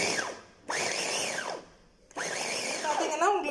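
An electric vegetable chopper whirs through tomatoes in three bursts, motor pitch rising and falling each time, with a short pause between runs and a wet churning near the end.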